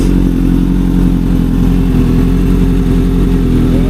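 A motorcycle engine runs steadily and loudly up close as a beginner rider pulls away, a constant mid-pitched drone with slight mechanical clatter throughout and no pauses.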